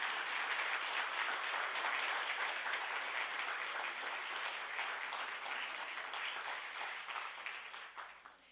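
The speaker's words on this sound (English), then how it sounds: "Please give them a round of applause for their hard work and their hours of commitment." A distant, faint but steady round of audience applause at a community meeting honoring volunteers, continuous clapping that slowly fades out at the close.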